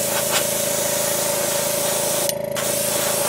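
Spray gun applying thinned cool blue paint onto a white fishing lure: a steady, close hiss runs throughout, broken by a short pause near the end before resuming.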